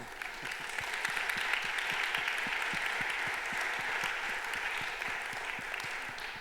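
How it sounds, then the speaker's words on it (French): Steady applause from an audience at the opening of an arts event, dense and even clapping lasting several seconds at moderate distance with no talking over it. "Un autre grand applaudissement pour Maya Hoffman"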